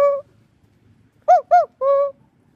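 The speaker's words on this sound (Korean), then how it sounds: "뻐꾸기 아저씨가 여러분에게 노래를 들려드립니다" Clay cuckoo whistle played close and clear: a single tone, then two quick falling cuckoo-like notes and a longer held note, with quiet room background between.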